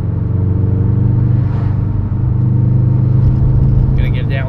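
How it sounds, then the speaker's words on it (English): A deep, steady 2021 Subaru WRX STI turbo engine rumble drones from inside the cabin with windows partly down, loud and continuous, with a faint whistling note near the end. "that Subaru rumble paired with the turbo."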